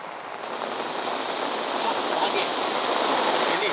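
Floodwater from heavy rain rushes across a village road in a steady, dense roar of turbulent water that stays constant and fairly close, with no clear voices over it.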